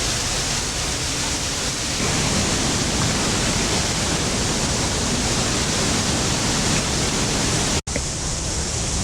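The river at Tarawera Cascades, New Zealand, rushes in a steady, dense, loud roar of flowing water that stays even throughout with no voices.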